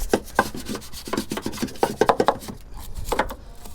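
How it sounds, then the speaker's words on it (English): A stiff brush scrubs cleaner across a neglected car engine, a close, raspy rubbing in quick uneven back-and-forth strokes with bristly scratching bursts, no voices over it. "I like the sound that cleaning supplies make, like brushes."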